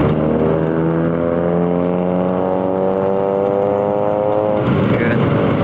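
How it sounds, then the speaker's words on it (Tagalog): On a road between Solano and Bayombong, a steady droning car engine hums inside the vehicle as a fast car closes in from behind, with a broader rushing swell near the end. "yung may mabilis na sasakyan dito sa likuran natin na mag-a-adjust na magpapagilid at parang gusto niyang sumingit"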